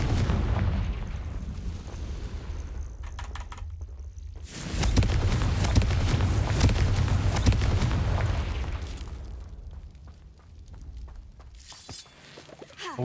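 Confringo fire spell blasts in Hogwarts Legacy, a run of loud rumbling explosions and crackling debris bursting out together, swelling to a heavy roar in the middle before tailing off into scattered crackles.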